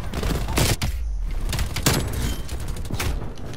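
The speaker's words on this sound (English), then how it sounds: "Oh no, he didn't even snipe me, he shot me with a shotgun." Gunfire in the shooter game Call of Duty Black Ops Cold War, several loud, sharp blasts within a constant din of game action, the strongest near the start and in the middle.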